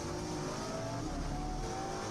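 Ferrari race car engine at Fuji during a Japan Cup race, a steady droning onboard engine note held at constant loudness throughout, no talking.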